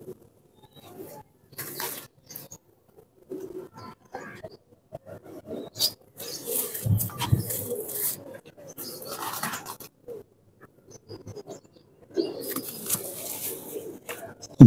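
Pigeon cooing with wing flaps, in a pigeon loft where a keeper is showing male and female pigeons of the surkhy tamry variety; intermittent soft coos and flutters, close by, with bursts of rustling and a sharp noise at the end.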